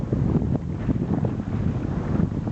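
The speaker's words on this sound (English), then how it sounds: "Wind is just picking up a little bit. We're still motoring." Wind gusting across a motoring sailboat's microphone near Wilsons Promontory in Bass Strait, a steady rushing buffet with low rumble and engine drone underneath, no talking.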